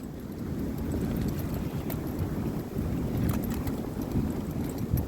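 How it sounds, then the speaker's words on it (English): Strong winter storm wind gusts batter a carp fishery in Shropshire, a loud, steady roar with surging buffets and microphone wind noise throughout, no talking. "Some proper big gusts there."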